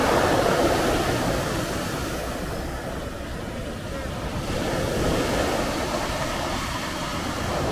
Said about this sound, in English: you can hear the water pushing those rocks around